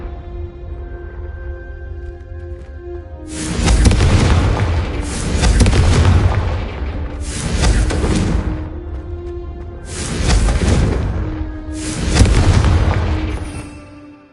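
Confringo fire spells detonating in Hogwarts Legacy: five loud, booming explosions, each a broad burst lasting about a second, spaced evenly roughly two seconds apart over a low ambient game hum.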